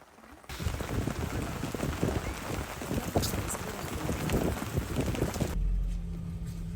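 Dense, continuous rain patters hard on a surface close by, a steady hiss that starts abruptly and cuts off near the end.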